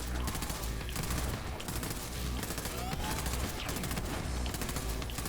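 Rapid gunfire from Borderlands 3 rattles on without pause as dense bursts and volleys with a steady low thump underneath, aimed at an enemy's shield.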